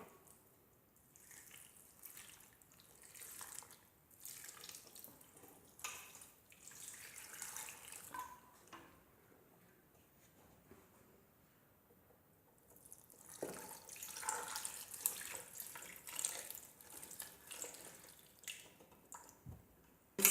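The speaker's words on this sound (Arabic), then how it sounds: "غنوضع ليه اطرو ديال الماء" Water poured from a container over sugar in a pan while making honey syrup for chebakia, a soft trickling splash that comes and goes in bursts with quiet pauses between, close and fairly faint.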